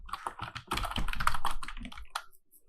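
Close, busy keystrokes on a computer keyboard come in quick irregular clusters for about two seconds, then a few sparse taps trail off.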